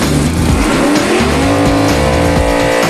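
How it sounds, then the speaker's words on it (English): Rear slicks on a Camaro drag race car spin in a smoky burnout at the starting line, a loud, sustained tire squeal layered over the hard-revving engine roar from close by. "Greg spins the slicks to heat up the rubber, and a cloud of white smoke lets the audience know he's only a few seconds from takeoff."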